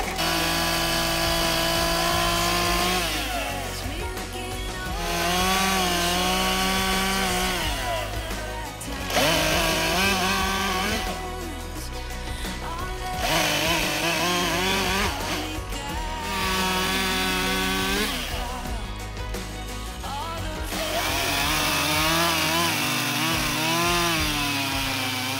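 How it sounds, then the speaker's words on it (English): A chainsaw cuts through a log while wood fence posts are being set on a farm. The engine whine is loud and close and swells and dips in repeated cycles as the blade bites. "Just let the weight of the saw cut through it"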